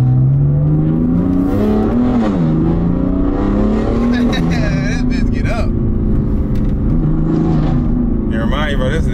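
A video game car engine revs hard and loud through upshifts and downshifts, its pitch climbing and dropping repeatedly, with people talking over it throughout.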